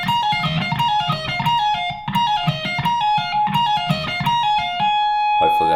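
A loud, close distorted electric guitar plays a continuous shred run from a solo, cycling rapid five-note and four-note groups before settling on a held, ringing note.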